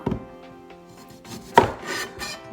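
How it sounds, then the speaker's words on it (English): A knife chopping vegetables into fry shapes on a board while making vegan food at home: steady close cutting and scraping strokes with one sharper thud midway, no voices. "I'm just going to chop them up."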